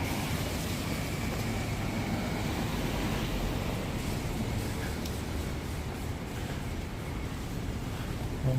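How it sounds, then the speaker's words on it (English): Rain falling on a Tokyo street near Omori, a dense, steady wash of noise with gusty wind across the microphone, loud and unbroken throughout. "Rain is picking up a little bit again."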